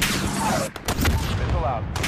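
Gunfire from a Modern Warfare campaign mission, with dense bursts of loud, close shots and booming impacts that fill the clip, while battlefield voices call out over the shooting.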